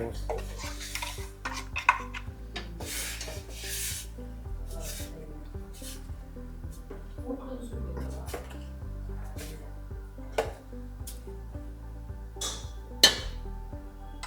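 A mixture is added to a pot of sorekayi mosaru huli, a bottle gourd and yogurt curry, and stirred. A utensil scrapes and clinks irregularly against the pot, close up and fairly quiet.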